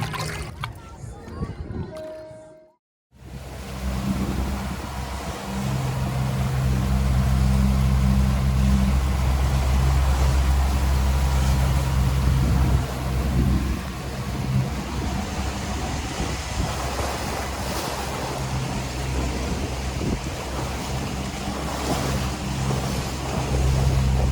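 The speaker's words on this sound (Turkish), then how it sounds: "dostlar yine bir sürü tekne var tabi burada" Steady low engine rumble with constant water-vehicle drone, loud and continuous after a brief gap near the start, like many boats motoring nearby off Bademli village, Dikili, Turkey.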